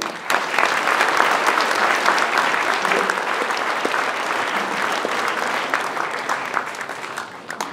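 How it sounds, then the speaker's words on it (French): Audience applause at a mayor's New Year's greetings ceremony in Notre-Dame-de-Gravenchon: dense, sustained clapping from a large hall crowd that holds steady for several seconds, then tapers off near the end. "on peut l'applaudir pour ses 20 années"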